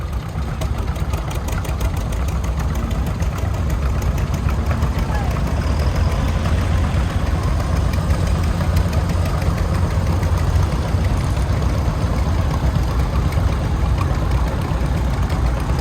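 A 1938 Model B antique tractor runs in a parade at an outdoor show, its engine holding a steady, even chug from start to finish. No one speaks, and the engine sound stays constant.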